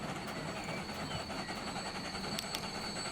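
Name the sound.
coal train in Transport Fever 2 video game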